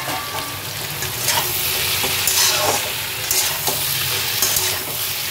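Fish goes into a pan of Bengali bati chorchori and sizzles loudly in hot oil while being stirred. The frying crackle is dense and close, with scraping surges of stirring throughout.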